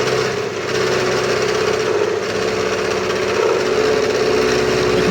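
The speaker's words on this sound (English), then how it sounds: "We can take quite a chunk off with the old roughing end mill." Milling machine taking a heavy cut with a roughing end mill through a welded joint on a handmade twin-rail swingarm for a custom Harley Sportster, a loud, steady grinding drone that holds throughout without talk.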